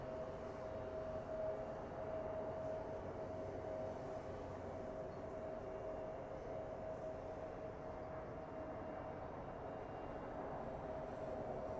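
Air Canada Rouge airliner on approach to land at Sky Harbor International Airport, Phoenix, a steady distant engine roar with a faint whine held evenly throughout, no talking.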